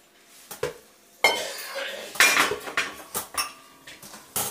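Boiled chowmein noodles tossed with refined oil in a metal pot: loud clanks and scrapes of a utensil against the pot, arriving in quick irregular bursts with a light sizzle between them.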